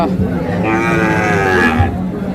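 At Hazratpur cattle market, a Friesian cross calf lets out one long, loud moo close by, rising and falling over a low background murmur.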